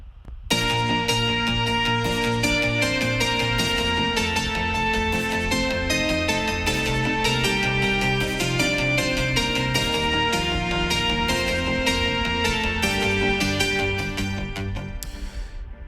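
Synthpop arrangement built around a Mozart piece, with a bright synth melody layered over sustained chords and a steady bass line, playing loud and continuous without any talk before easing off at the very end.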